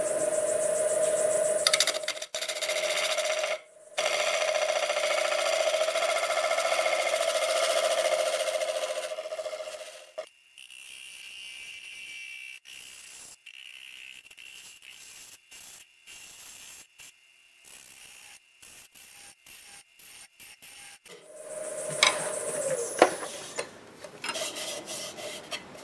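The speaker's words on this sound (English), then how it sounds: "Half inch bowl gouge, and just clean it up." A half inch bowl gouge cleans up a glued-up wood blank spinning on a lathe, giving a steady loud scraping hiss that stops midway, followed by a quieter stretch of clicks and a brief return of cutting noise.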